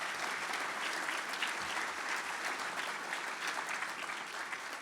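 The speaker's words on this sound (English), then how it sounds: "round of applause" Sustained audience applause at a charity breakfast fundraiser, a dense, even wash of many hands clapping, fairly faint and distant, with no voices.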